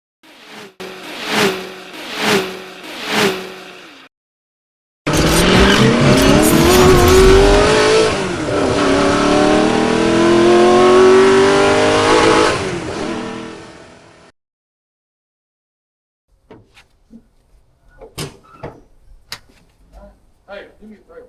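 A Cushman mini truck engine fed ether cranks with a few rhythmic bursts, then catches and roars loudly at high revs for several seconds before cutting off, followed by scattered clanks and knocks.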